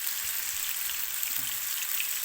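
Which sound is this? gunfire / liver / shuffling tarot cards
liver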